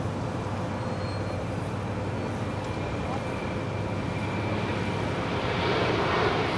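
Turkish Airlines jet airliner at LAX, a steady loud roar of engines that swells slightly toward the end, with no talk.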